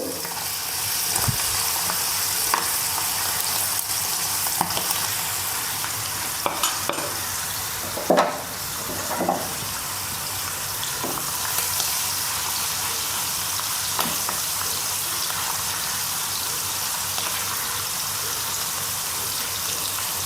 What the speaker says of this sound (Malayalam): ചട്ടി ചൂടായി എണ്ണ ഒഴിച്ചിട്ടുണ്ട് എണ്ണ കാഞ്ഞിട്ടുണ്ട് നമുക്ക് ചെമ്മിനിട്ട് കൊടുക്കാം